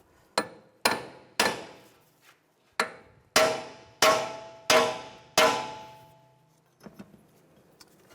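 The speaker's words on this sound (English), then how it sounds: "I just want to take a large punch and just right in this area, I just want to hammer down the knuckle" A large punch is struck with a hammer to separate the steering knuckle from the strut on a 2004-2010 BMW X3: seven sharp, ringing metallic blows at an uneven pace, close and loud, followed by a fainter knock.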